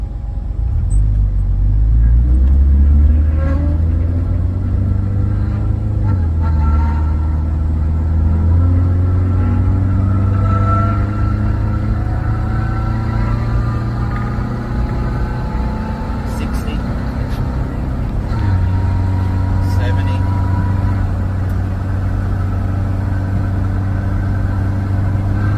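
A 1976 VW Kombi converted to a Subaru EJ20 engine with an automatic gearbox runs steadily, a loud low rumble with slowly shifting engine tones throughout, while someone talks over it.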